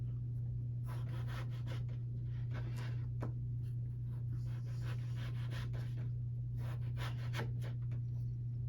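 A knife slicing raw potatoes into fries, giving repeated scraping, rubbing strokes in uneven bursts, close, over a steady low electrical hum; no talking.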